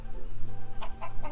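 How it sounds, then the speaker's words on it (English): Chickens at a farm clucking, a few short close clucks near the end over a steady low background hum, with no talk. "Oh, look at this chicken."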